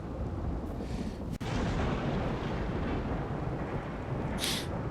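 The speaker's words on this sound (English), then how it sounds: "Evidently thunderstorms are the only thing that we're getting today." Thunder rumbling through a storm in the video game RimWorld, a loud, continuous low roar with a sharp crack partway through and a brief bright burst near the end, no talking.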